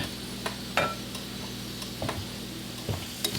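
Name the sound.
potatoes (dollar fries) frying and sizzling in a pot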